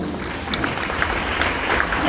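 A church congregation at a Tamil Christian village service applauds: steady, dense clapping from many hands, fairly loud and continuous, with a murmur of voices underneath.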